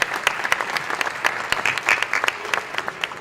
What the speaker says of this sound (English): if I could just ask for a quick round of applause for our expert panelists